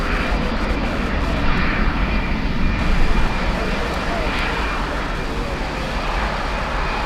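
Lufthansa aircraft with CF6 jet engines power up at Miami International Airport, a loud, steady, broadband roar that holds constant throughout, with no talk.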